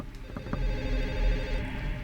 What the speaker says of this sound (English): That phone will keep ringing until you answer it in the other apartment.